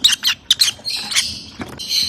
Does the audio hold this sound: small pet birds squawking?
yes